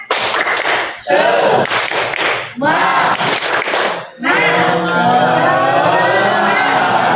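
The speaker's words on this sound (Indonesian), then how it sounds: "1, 2, 3, tepuk semangat" A class of students claps loudly in three quick rhythmic bursts, then breaks into sustained cheering and shouting that fills the classroom.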